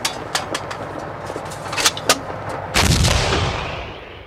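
Booming cannon shots from a T-34 tank's 76mm main gun, several sharp reports in quick succession and then a heavier blast that rolls off and fades.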